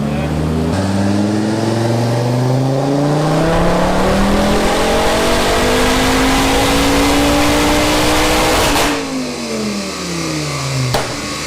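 Engine-swapped Ford Focus ST with an RS engine revving hard on a dyno, a loud continuous roar climbing steadily in pitch for several seconds before dropping off sharply, followed by a lower idle and a brief blip.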